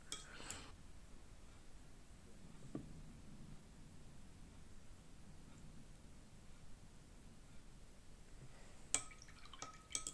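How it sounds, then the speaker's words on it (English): A paint brush is rinsed in a water cup during a drawing session, producing soft drips and faint liquid swishes at low volume, with a brief sharper clink near the end in an otherwise quiet room. "Wash our brush,"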